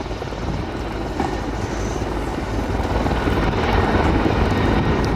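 An Mi-24 military helicopter performs at the Gdynia Aerobaltic 2021 air show, its steady broadband rotor and turbine roar sustained and fairly loud throughout, swelling slightly toward the end.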